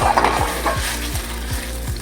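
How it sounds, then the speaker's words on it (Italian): Food sizzles loudly in olive oil in a frying pan while being tossed and stirred, with rhythmic scraping strokes repeating about every half second over a constant crackling fry. "Appena lo sentiamo sfrigolare gli facciamo fare un salto e poi lo mettiamo già in piatto."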